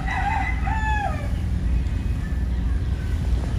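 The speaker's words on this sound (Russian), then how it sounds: "петухи — это наше филиппинское все" Roosters crow, one after another, in Cebu City, Philippines, with clear rising and falling calls at moderate distance over a low steady engine hum.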